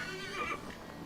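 A horse whinnies in the Assassin's Creed Valhalla video game, a single short, moderately loud neigh with a wavering pitch over faint background ambience.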